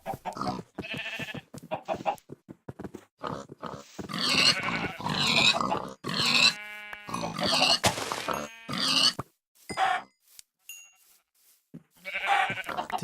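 Pigs in the video game Minecraft grunt and snort in a string of short, fairly loud calls, some squealing upward, spaced irregularly with brief pauses between them.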